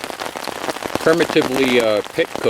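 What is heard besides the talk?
rain mixed with sleet and snow falling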